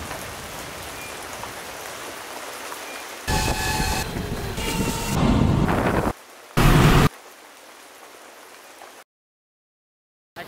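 Rain falls in Rajshahi, Bangladesh, as a steady hiss at first. It then gives way to louder, choppy bursts of rushing noise that start and stop abruptly before fading to silence.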